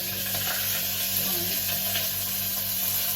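Chopped onions fry in plenty of hot oil in a home kitchen, giving a continuous, even sizzle that stays steady and moderately close with no talking over it.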